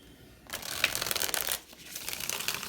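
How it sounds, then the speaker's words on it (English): Tarot cards are riffled and shuffled by hand in two close, crisp bursts of rapid fluttering with a short pause between them. "Actually, they want me to shuffle one more time."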